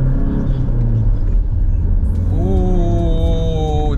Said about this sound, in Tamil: இப்போ நீங்க ஃபர்ஸ்ட் கியர் போட்டு ஆக்சலேட் கொடுங்க.